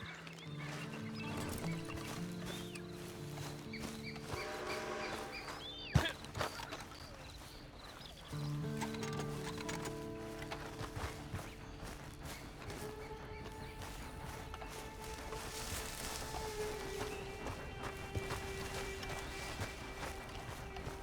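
Horse hooves clip-clop along with a whinny in the video game Red Dead Online, set against music and a continuous game soundscape with tonal effects.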